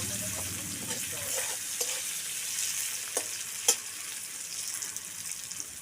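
Potatoes fry in oil in a pan with a steady, soft sizzle. Occasional clinks and stirring taps sound close by.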